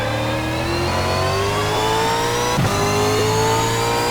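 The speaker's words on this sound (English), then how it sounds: "here we hit, or not quite hit the limiter in 6th, doing almost 300 kilometers an hour" A Reiza Super V8 race car at Bathurst holds its engine near the rev limiter in 6th gear at almost 300 km/h, a loud steady high-revving drone with a slowly rising pitch and one brief thump.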